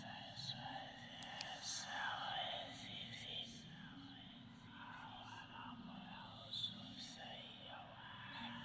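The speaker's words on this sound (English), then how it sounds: "I don't remember all that whispering." Eerie whispering in the greenhouse level of the horror game The Perception of Liminal Space, soft overlapping murmurs drifting over a faint low drone, quiet and unsettling throughout.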